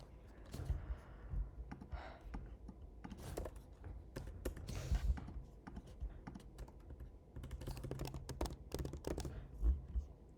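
Computer keyboard typing in quick irregular clusters of clicks, close and fairly quiet, with short pauses between bursts and no talking.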